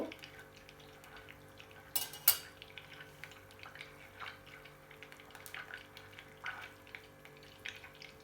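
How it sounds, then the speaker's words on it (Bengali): Homemade ghee is slowly stirred in a pan, soft scraping and clinking of a spoon against metal with a faint bubbling underneath, quiet and close, with a couple of sharper knocks. "এখন আমি আস্তে আস্তে নাড়ব"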